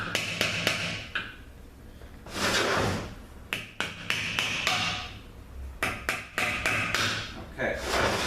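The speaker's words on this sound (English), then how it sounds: "we're going to knock the, see if we can knock it down" A hammer knocks repeatedly on the bellhousing of a 722.6 automatic transmission to drive it loose. Sharp metallic raps come in quick clusters, close and loud, separated by short pauses and duller handling noise.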